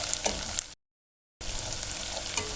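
Garlic sizzles and crackles in a hot pan as it is stirred, a soft steady frying hiss with light scraping, broken by a brief silent gap.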